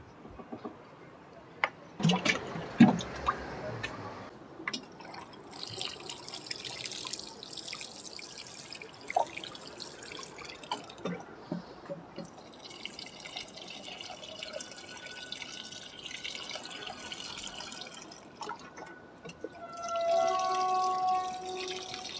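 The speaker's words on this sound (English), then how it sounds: "now I'm gonna be watering, and I'm gonna use a little bit of this additive" Water trickles and drips into potted plants on a balcony as they are watered with an additive mixed in, a faint, steady pouring with scattered splashes and clinks, soft and close.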